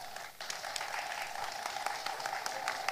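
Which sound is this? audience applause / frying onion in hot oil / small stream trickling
audience applause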